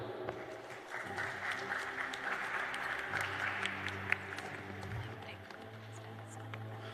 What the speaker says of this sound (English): Let us give ourselves a big round of applause for that.